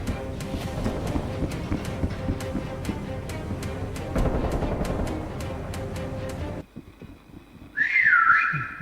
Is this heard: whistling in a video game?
yes